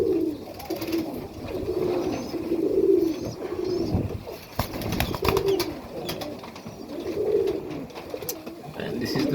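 Serbian Highflyer pigeons coo in a loft in Melbourne, Australia, with repeated low, rolling calls from several birds close by, joined by soft rustling and occasional flapping.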